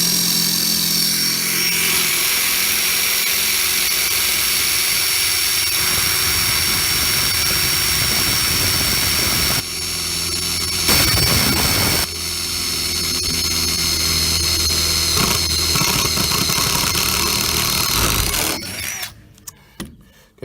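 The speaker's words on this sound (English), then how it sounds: "We drill us a hole." A Milwaukee drill boring holes in lumber decking on a gooseneck trailer whines loudly and continuously for nearly twenty seconds, with brief dips and surges, then cuts off at the end.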